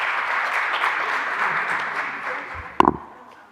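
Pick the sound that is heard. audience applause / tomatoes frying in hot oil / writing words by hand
audience applause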